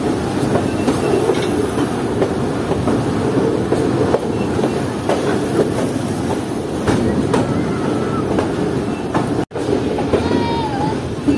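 Steady rumble and rattle of a freight train rolling along the rails in heavy rain during a thunderstorm, with clacking wheels and a brief dropout near the end; faint voices underneath.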